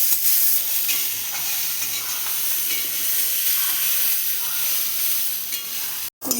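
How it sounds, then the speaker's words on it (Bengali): Fried cauliflower and peas are stirred into a chopped chili mixture in a hot pan, giving a steady, close sizzling hiss that continues without a break. A brief silence comes near the end. "এই দিয়ে দিলাম ভাজা ফুলকপি, দিয়ে দিলাম মটর, দিয়ে এখন মিশ্রণ করে নিতে হবে।"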